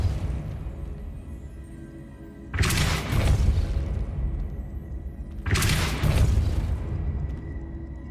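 Two heavy booming spell blasts from the Hogwarts Legacy Depulso force-push charm, each a sudden broadband burst about three seconds apart that rumbles on and slowly decays.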